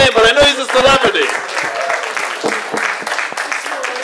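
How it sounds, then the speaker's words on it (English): An indoor audience claps for a celebrity in the room, a burst of close, sharp claps that thins into scattered applause, with a voice speaking over the start. "Let's clap for him."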